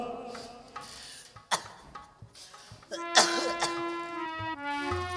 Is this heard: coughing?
yes